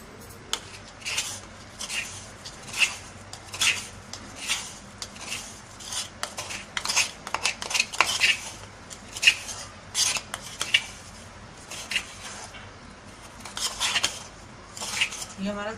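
A spoon stirs korma masala powder in a dish, producing repeated close metallic clinks and scrapes in an uneven rhythm, with quiet gaps between strokes.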